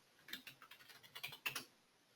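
Someone types a short burst on a computer keyboard, a quick run of soft, close key clicks ending in a couple of firmer taps, with no voice.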